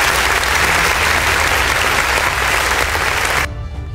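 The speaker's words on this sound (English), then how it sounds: "Let's give them a big round of applause to show our appreciation." An audience claps loudly and steadily for a kindergarten class performance, a dense, even wash of hands that continues for several seconds and then cuts off abruptly near the end.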